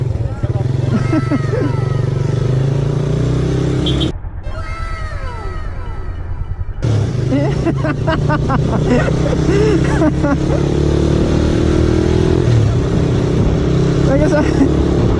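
Suzuki Raider 150 carburetor motorcycle ridden at top speed, a loud steady engine drone with wind rush, briefly dropping off before resuming, while riders talk over it.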